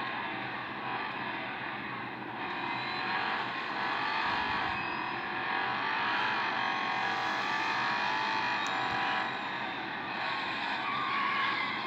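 Race car engine in the mobile racing game Real Racing 3, a steady loud whine with tire skidding running throughout, continuous and close with no talk.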